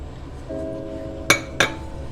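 Melted butter and flour stirred in a pan over medium heat, with two sharp metallic clinks of a utensil against the pan over a low steady background hum.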